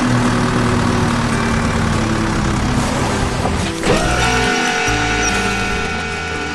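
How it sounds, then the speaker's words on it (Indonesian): Heavy machine crushing large rocks in an animated construction cartoon: a loud, steady low engine rumble with grinding texture and a brief shift midway, no voices. "Lihat betapa kuatnya mesin itu. Batu-batu besar hancur berkeping-keping menjadi tumpukan puing."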